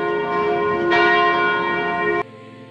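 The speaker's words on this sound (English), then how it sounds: "the remarkable cathedral bells" Cathedral bells at St. Mary's Cathedral in Calgary ring loud and resonant, a fresh strike swelling the ringing tone before it cuts off abruptly, leaving a faint hum.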